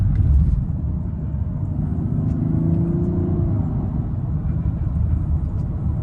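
A 2025 Mazda CX-70 Turbo S Premium Plus engine hums at a low, smooth rumble from inside the cabin, rising gently as it accelerates midway and then settling back down, with no voices.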